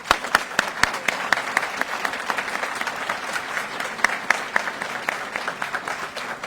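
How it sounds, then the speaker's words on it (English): Applause at a Navy Supply Corps School graduation ceremony: many hands clapping in a large hall, with individual sharp claps standing out from the steady patter, moderately loud and sustained. "A round of applause for all our graduates."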